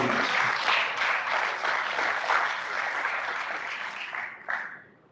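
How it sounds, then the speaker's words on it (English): Applause from an audience at a research foundation's fundraising launch, a full room of steady clapping that holds for several seconds, then thins and fades out near the end. "Keep that applause going"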